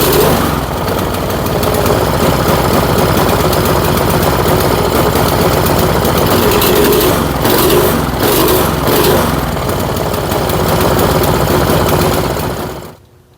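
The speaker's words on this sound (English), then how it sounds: "The warmer this engine gets right now, it's definitely running worse than what it was." A small snowblower engine runs loudly and continuously, rough and worsening as it warms, with an uneven, sputtering chug, then cuts off abruptly at the end.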